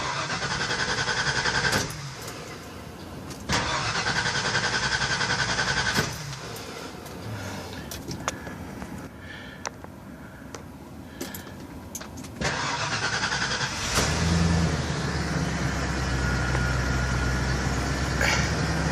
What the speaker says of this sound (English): when we start the engine